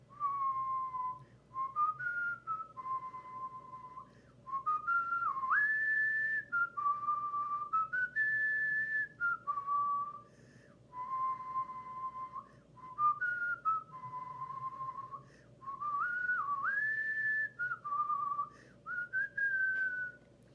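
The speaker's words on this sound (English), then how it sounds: "That's the best I can whistle it." A lone person whistles a melody, clear tuneful phrases rising and falling with short pauses between them, close and fairly soft.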